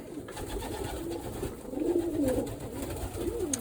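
Pigeons coo in low, throaty, rolling calls, several overlapping close by against a steady background hum.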